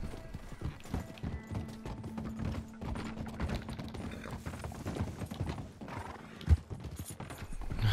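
Horse hooves clip-clop in a steady walking rhythm in the video game Red Dead Redemption 2, with a brief whinny and some mechanical clicking underneath.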